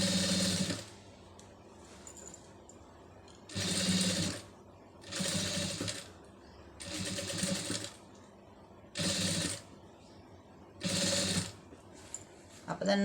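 A sewing machine stitching lace onto a garment neck piece, running in several steady, fast-whirring bursts of one to two seconds each, separated by quieter pauses with low room noise.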